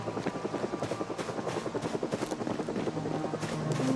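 A helicopter flies overhead in the zombie survival video game Project Zomboid, its rotor thumping in a steady rapid pulse that grows slightly louder toward the end.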